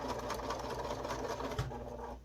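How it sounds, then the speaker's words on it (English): A sewing machine back stitches a seam on a fabric face mask with an aluminum nose strip, a short steady run of rapid mechanical stitching, close by and alone. "I'm going to start by back stitching"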